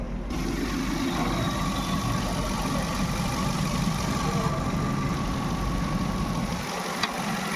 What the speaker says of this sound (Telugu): చూడొచ్చు వెహికల్ ఇంజన్ సౌండ్.